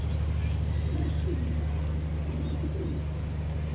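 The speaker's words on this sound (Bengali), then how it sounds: "দেখার মতো একটা কবুতর।" A foreign racing pigeon coos softly in a few low, rolling phrases over a constant droning hum nearby.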